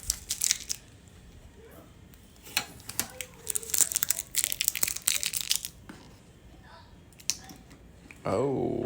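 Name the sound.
peeling tape off protective packaging materials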